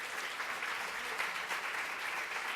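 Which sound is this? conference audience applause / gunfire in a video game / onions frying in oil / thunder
conference audience applause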